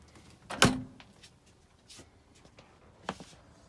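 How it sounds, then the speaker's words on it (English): A fridge door in a Safari Condo F1743 camper shuts with one firm, close thump, followed by faint rustling and a softer second knock a few seconds later. "So we're going to close the door and see what we're drawing for power."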